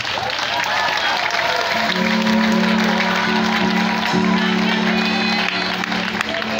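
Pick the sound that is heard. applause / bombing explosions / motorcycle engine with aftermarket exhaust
applause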